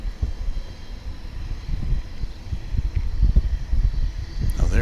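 A jet airplane taxiing at Dallas Fort Worth International Airport, a steady low engine rumble with gusty wind noise, moderately distant and continuous.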